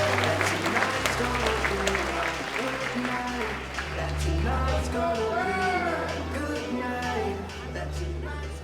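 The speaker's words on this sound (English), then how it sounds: "Keep clapping, make some noise right now for Brad Kofman." Loud, sustained audience applause with cheering fills a comedy club, steady throughout as a host's voice carries over the clapping.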